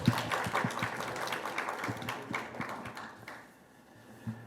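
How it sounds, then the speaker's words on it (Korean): An audience of students claps for a pharmaceutical company CEO after his lecture. The applause is faint and fairly distant, and it dies away to near quiet with one last clap. "그 대표님께 다시 한번 박수 부탁드리겠습니다"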